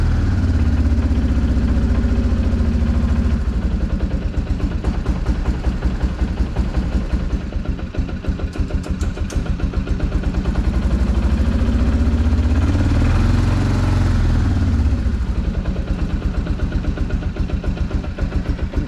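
A Kawasaki Prairie 360 ATV engine running cold with the choke on, a loud, close, rapid chugging putter that holds steady throughout with slight swells in pitch.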